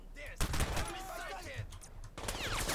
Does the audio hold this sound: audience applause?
no